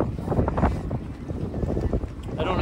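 Strong wind buffets a sailboat out on the water in a stormy sail, rumbling and gusting loudly against the microphone, with some muffled voice-like sound mixed in.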